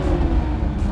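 A Toyota Supra coupe's engine in sport mode revs loudly and close with a throaty exhaust note, a continuous sustained roar with no talk over it.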